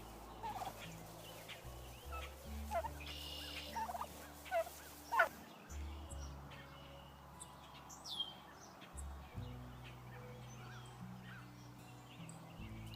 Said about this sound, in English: So the turkeys and chickens are hanging out together.